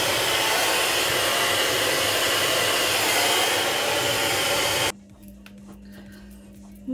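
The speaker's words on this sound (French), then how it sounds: "c'est parti pour faire sécher les cheveux" A Babyliss hair dryer blows loud and close while drying hair, a constant rushing whoosh with a steady motor tone that cuts off abruptly, leaving a faint low hum and a quiet room.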